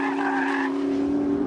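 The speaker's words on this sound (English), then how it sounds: "When you go in too hot, it'll drag the inside rear wheel to keep you online. The whole car will pivot around that wheel" McLaren sports car cornering hard on a track, a loud sustained engine drone with tires squealing and skidding through the first half, then the engine tone continuing alone.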